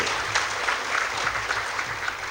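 An audience at a talk breaks into brisk applause to welcome two guests, a thick, continuous burst of many hands clapping over about two seconds, with no speech.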